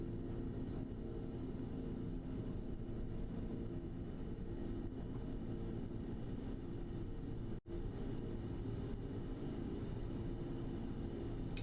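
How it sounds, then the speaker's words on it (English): The six-engined Antonov An-225 Mriya cargo jet roars down the runway on takeoff, a heavy, steady broadband engine rumble sustained throughout with a brief dropout, no voices. "Now enjoy this rare takeoff on the 6-engined monster"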